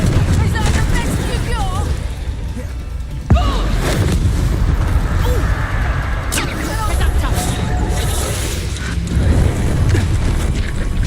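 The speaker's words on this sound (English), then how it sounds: "Confringo!" A Confringo fire spell goes off in Hogwarts Legacy as one sudden, sharp blast followed by a rumbling tail, set against a busy wash of game music, effects and character voices.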